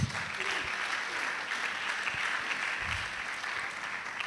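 Steady applause from a church congregation fills the space, a dense, even wash of many hands clapping at moderate volume with a few low thumps, no voices standing out.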